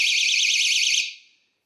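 An electronic alarm tone warbles rapidly and loudly for about a second on its own, then fades away to silence.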